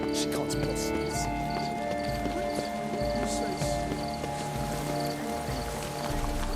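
A horse's hooves clip-clop at a steady walking pace in The Witcher 3, mixed under continuous music and background voices.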